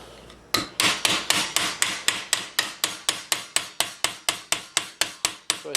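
A steel plate for Milanese-style armored mitten gauntlets of around 1450 is struck about seventeen times in a steady rhythm, roughly three blows a second. Each close, loud, ringing hammer hit decays before the next, with no voices.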